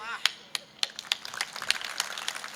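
Audience clapping at a Marathi-language public speech: scattered, sharp hand claps that start sparse and grow more frequent, with people's voices murmuring underneath.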